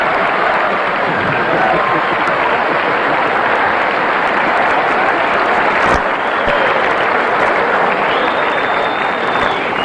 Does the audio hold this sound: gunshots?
no